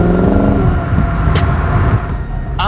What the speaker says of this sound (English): Those S-type Borlas sound fantastic.